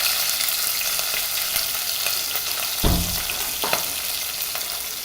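Onion, green chilli and tomato sauté in hot oil with crackling mustard seeds and curry leaves for a dried-fish curry, a steady loud sizzle with a couple of brief stirring bursts near the end.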